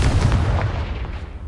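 A Confringo blasting spell goes off in Hogwarts Legacy, giving one loud, close, booming burst with a rough rumble that fades over about a second and a half.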